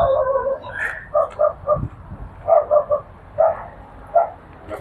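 Several stray dogs, some large, bark in short bursts of two or three yips, fairly close, with pauses between, over a quiet outdoor background in Saudi Arabia.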